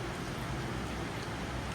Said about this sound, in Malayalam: നല്ല മഴ കേട്ടോ പുറത്ത്.